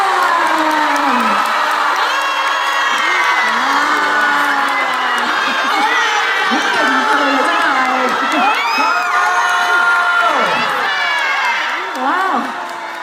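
Fans at a singer's MV premiere and fan meeting cheering, screaming and whooping as she comes on stage, a loud sustained crowd roar with high excited shrieks and clapping throughout.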